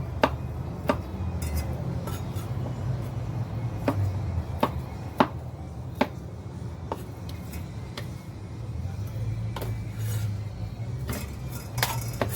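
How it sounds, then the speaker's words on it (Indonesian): A knife chops through fried tofu and tempeh on a board in a home kitchen, sharp distinct knocks at an irregular pace, roughly a dozen strikes over a low steady background hum. "Lanjut saya mau potong-potong."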